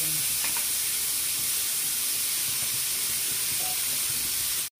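Chopped onion fries in a pan for a Bangladeshi-style egg bhuna, giving a steady, close sizzle with light stirring scrapes throughout, alone with no voices, until it cuts off abruptly at the end.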